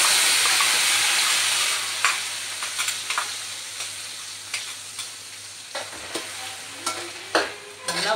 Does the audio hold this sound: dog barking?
no